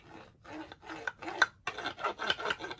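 Rough scraping strokes of wax distressing on a picture frame, a series of short rasping rubs in an uneven rhythm, close but fairly quiet.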